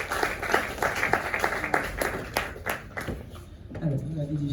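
An audience at a French-language church youth conference panel claps in scattered bursts for a pastor being introduced, then the clapping fades and a voice begins speaking.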